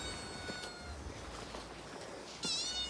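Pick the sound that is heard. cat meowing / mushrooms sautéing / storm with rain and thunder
cat meowing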